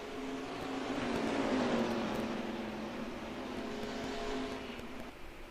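Stock race cars in a racing video game battle for the lead at Phoenix, a steady, loud engine drone with rising and falling tonal whine as the pack runs close together, no voices.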